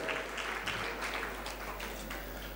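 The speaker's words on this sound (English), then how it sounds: "Give her a round of applause." An audience at a talk on happiness gives a woman a round of applause: a continuous wash of many hands clapping, fairly distant and even, over a low steady hum.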